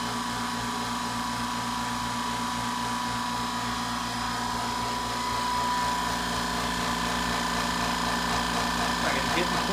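A California Air Tools 10020C 2 hp ultra-quiet air compressor runs steadily while refilling its tank from 90 to 120 psi in a concrete and sheetrock garage, a constant close mechanical hum with a rattling motor drone throughout.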